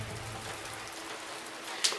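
Steady rain hisses in a video game, an even wash of drops with a faint low rumble early on and one brief sharper patter near the end.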